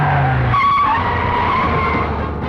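A car pulls away with a brief tire squeal and a rising engine note, loud and near, with no voices over it.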